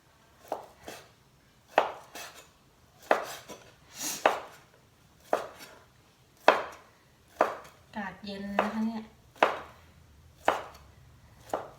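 A knife chops chicken on a board in regular, firm strokes, about one per second, with a brief soft voice murmuring partway through.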